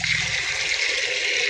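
Water pours steadily into a container set out for birds at a school in summer, a continuous hissing gush with a low rumble early on, close and alone without talk.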